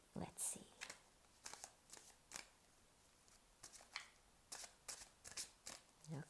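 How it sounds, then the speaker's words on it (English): Tarot cards are shuffled in quick, crisp riffling bursts, repeated many times with short pauses between, fairly close and quiet. "I keep shuffling and shuffling and shuffling"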